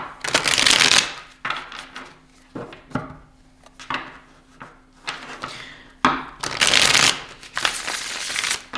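Tarot cards are shuffled close by in repeated riffling bursts, two loud flurries at the start and near the end with lighter taps and slides of cards in between.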